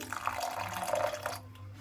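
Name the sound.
water being poured into rice batter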